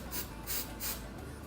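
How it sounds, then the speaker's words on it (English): Hairspray sprays around the border of a wig in three short hissing bursts, quiet and close, with no talking. "you're going to want to spray it all around the border right here"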